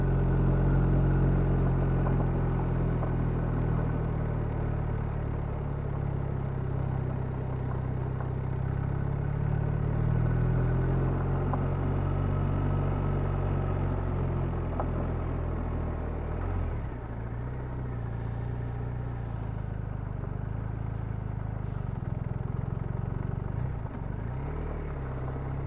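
A car climbs the Priests Leap mountain pass over loose, bumpy gravel, its engine droning steadily with continuous low rumble and tyre crunch throughout, occasional dips and jolts breaking the otherwise unbroken noise.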